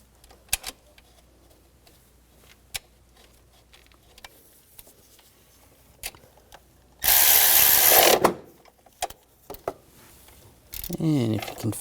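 Power tool spinning a nut onto the alternator stud of a 2000-2006 BMW X5 3.0L, a single loud whirring burst of about a second among faint clicks and handling noises, with speech nearby.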